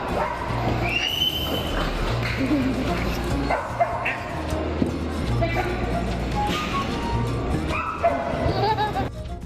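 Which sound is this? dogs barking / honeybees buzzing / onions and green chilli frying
dogs barking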